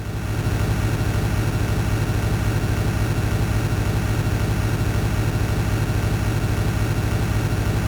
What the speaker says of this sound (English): You guys really appreciate that engine sound?